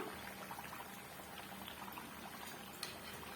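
Plantain bajji deep-frying in a pan of hot oil, a constant dense sizzling and bubbling close by, with no talk.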